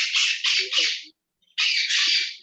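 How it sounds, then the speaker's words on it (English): Pet birds squawk in loud, harsh bursts, two runs of repeated calls broken by a brief silence, close and alone. "Oh, my birds are so bad today."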